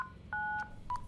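A telephone keypad sends out a short run of DTMF dialing tones: a brief beep, a longer steady tone, then a final short tone. The tones are clear and close, with no voices over them.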